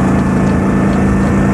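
A Vespa scooter engine idles while warming up, a loud, steady low drone with a constant pulsing putter, close and alone with no speech.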